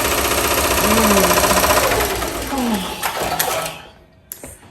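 An MT1501 embroidery machine stitches a varsity youth jacket at high speed, a loud, close, rapid mechanical chatter that runs steadily, then winds down and stops near the end. A voice speaks briefly over the machine.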